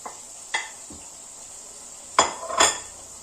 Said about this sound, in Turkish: Şimdi bu kavrulmuş olan soğanımın içerisine şöyle domatesimi ekliyorum.